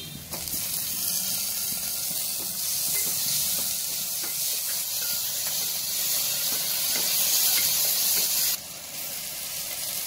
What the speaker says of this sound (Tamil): வெங்காயம் கொஞ்சம் நல்லா வதங்கட்டும்